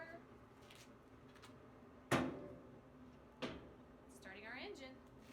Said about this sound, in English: Closing our pressure lock door.